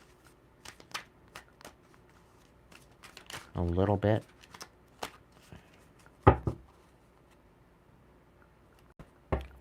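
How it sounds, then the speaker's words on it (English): Tarot cards being shuffled by hand, with scattered soft riffles and taps, then a brief louder burst of flapping and a sharp rustle, all fairly faint; a voice briefly speaks. "Let's shuffle it in"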